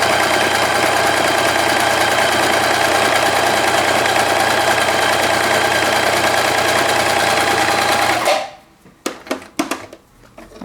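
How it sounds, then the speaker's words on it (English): A sewing machine runs continuously for about eight seconds, stitching the seam of a quilted mug cozy, with a steady close motor whir that stops abruptly and is followed by a few soft handling knocks. "sewing up that side with a 1/4 inch seam allowance, just following along your presser foot"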